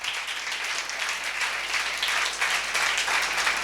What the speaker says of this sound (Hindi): खुदा के कलाम के लिए जोरदार तालियां बजाएंगे